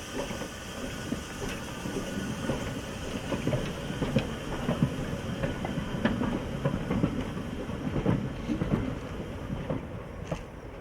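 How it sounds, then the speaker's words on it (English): A locomotive on a railway line climbing out of Trento, heard as a steady rumbling run with faint rhythmic clicks of wheels on track, moderately distant and without talk. "This particular loco is based out of Verona."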